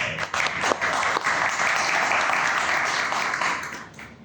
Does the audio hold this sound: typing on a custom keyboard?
no